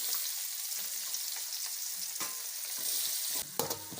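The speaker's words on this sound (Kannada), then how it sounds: "ಇದನ್ನು ಸರಿಯಾಗಿ ಫ್ರೈ ಮಾಡ್ಕೋಬೇಕು." Onions fry in a pan with spices, green chillies and pepper, giving a quiet, steady sizzle broken by a few brief stirring scrapes near the end.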